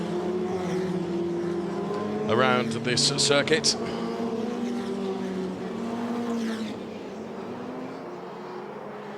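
Ferrari Challenge race cars on a formation lap at the Valencia circuit, with engines droning steadily beneath a commentator's voice and a brief burst of louder, revving cars passing near the middle.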